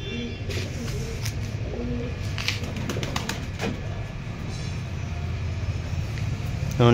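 Pakistani pigeons coo in a loft in Purba Bardhaman, with repeated low rhythmic coos and wing flutters close by against a steady background hum.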